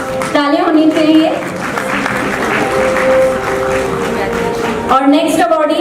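An audience claps at an Indian national excellence award ceremony as an awardee is called, with steady applause running under voices and a brief tonal sound in the middle.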